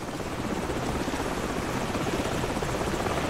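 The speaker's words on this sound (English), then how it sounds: "Hold on, the helicopter's back." A helicopter in the shooter game Call of Duty 4 roars overhead as a steady, dense, loud rotor wash that fills the whole stretch without letup, with no voices over it.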